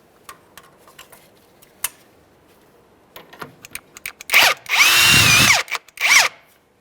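A power tool zips the jam nut off the inner tie rod end on a 2013-2020 Ford Fusion: scattered light clicks and taps first, then loud whirring bursts, one sustained for about a second, near and without speech.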